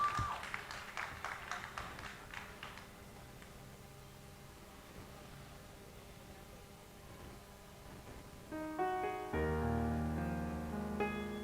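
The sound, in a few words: audience applauding an audition contestant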